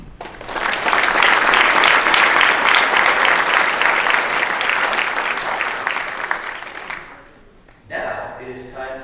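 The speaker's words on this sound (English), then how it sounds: "Please give yourselves and those around you a huge round of applause and a big thank you." A concert audience at a December performance applauds loudly and steadily for about seven seconds before the clapping fades, and then a voice starts speaking over a few scattered claps.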